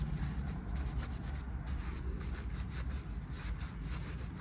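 A sanding block rubs steadily over a glitter pen in a continuous, close scratchy grind with slight strokes of rhythm, quiet and without talk.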